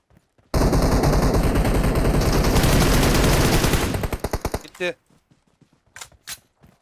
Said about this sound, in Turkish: Baba ben Furkan'ı vurduk lan